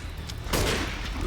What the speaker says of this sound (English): Had to use an extra pipe bomb though